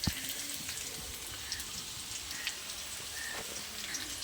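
Potato and snake gourd frying in a pan make a soft, even crackling sizzle, close but fairly quiet, with a few faint pops.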